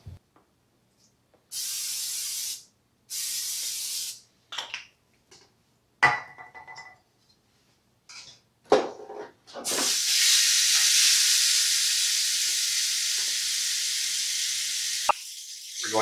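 A steak is reverse-seared on a preheated indoor grill, with loud bursts of sizzling and hissing broken by short pauses and soft clatter. A long, steady sizzle takes over for the final stretch.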